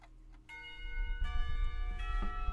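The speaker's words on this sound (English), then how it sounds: "Lunch bell sounds" A school lunch bell from the visual novel Katawa Shoujo rings out in several resonant, sustained tones, struck repeatedly over a low rumbling background.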